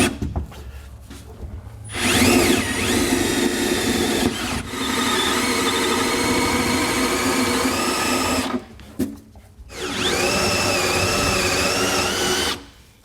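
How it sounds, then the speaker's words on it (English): A step drill bit enlarges pilot holes in a 2022 Chevy/GMC truck frame for a Curt custom fifth wheel kit, heard as three long, steady whining drill runs separated by short pauses, loud and close, with no talking. "now we'll come back with the step bit and enlarge them to the correct size here"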